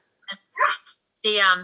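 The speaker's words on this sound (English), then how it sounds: "that's my dog in the background. If you can hear him." A pet dog barks and whines in the background, sounding as a few short yelps followed by a longer whimpering bark, separated by brief silences.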